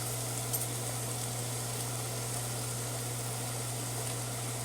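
Jamaican curry powder toasting in a pan for goat curry: a steady, faint sizzle under a constant low hum, with no talking.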